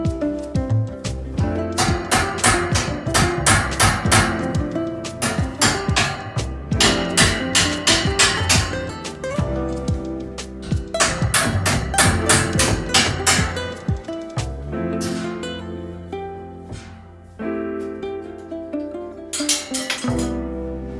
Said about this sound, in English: So let me grab my hammer.